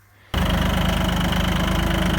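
A tractor engine working under load while pulling a Bomet-style plough through a field, a loud steady knocking drone that cuts in abruptly and runs on evenly.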